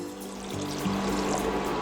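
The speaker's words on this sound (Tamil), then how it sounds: "இப்போது இது கூட 1/2 கப் தண்ணி சேர்த்துக்கலாம்." Half a cup of water is poured into a pan of cooking tomato and onion, giving a short, close splash and gurgle over a steady background hiss, with no talking.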